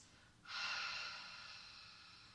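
A single long, breathy exhale during a Pilates exercise on a large ball, starting abruptly and fading slowly, close and fairly soft with no talking.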